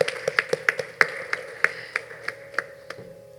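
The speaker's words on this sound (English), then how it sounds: "And one more round of applause." A few people clap at a teacher's event, sparse separate hand claps in an uneven rhythm, fairly quiet, with the last claps trailing off.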